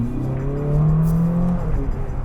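A Ferrari 458 Speciale's engine pulls hard along a straight road, rising in pitch in a steady, loud surge with a brief shift mid-pull.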